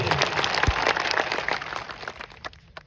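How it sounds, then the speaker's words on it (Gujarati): Dense, steady clapping from a crowd at an Aam Aadmi Party political rally in a village, welcoming a local sarpanch. It starts loud and thins out toward the end. "આપણે જોરદાર તાળીઓ પાડી લઈએ"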